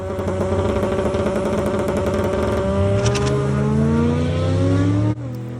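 A drag car's engine drones loud and steady with rising harmonics as its tyre spins under power, the pitch climbing before cutting off abruptly near the end; no talking.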